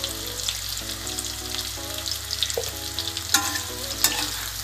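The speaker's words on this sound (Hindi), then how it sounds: "फ्लेम मेरी हाई पे मैं इसको फ्राई कर रही हूँ" Potato pieces fry in oil on a high flame, giving a loud, constant sizzle close by, broken by a few sharp scraping stirs of the utensil; background music plays with no talking.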